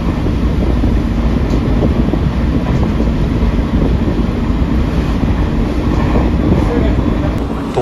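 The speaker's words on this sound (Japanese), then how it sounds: "特別快速ねぶたライナーは小湊駅を通過しています。" The Nebuta Liner special rapid train on the Aoimori Railway runs through Kominato station without stopping, heard from on board as a steady, dense rolling rumble with faint rail clatter throughout.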